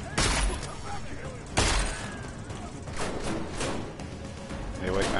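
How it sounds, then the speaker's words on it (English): Bursts of gunfire from the video game Deus Ex Mankind Divided, two sharp loud shots followed by rapid repeated firing, with talk over parts of it. "Deal with all that shooting there."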